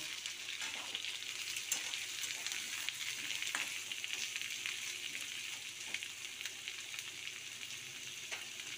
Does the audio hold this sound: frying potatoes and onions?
yes